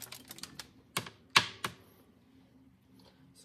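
A tape measure handled at close range beside a small plate: a quick patter of light clicks, then three sharper snapping clacks about half a second apart, fading to near quiet.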